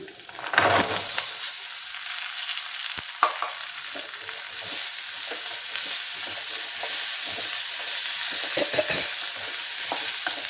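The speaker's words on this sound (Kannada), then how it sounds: "ಕಾಳನ್ನ ಹಾಕ್ಕೊತಾ ಇದ್ದೀನಿ." Chickpeas stirred in a hot tempering of oil, grated coconut, dried red chillies, mustard seeds and curry leaves. A close, continuous sizzle runs under repeated scraping stirs of a spoon in the pan, with no talking.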